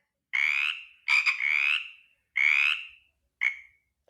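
A frog croaks in a Tamil animal story, giving four loud, raspy calls with short pauses between them, close up and alone with no talking.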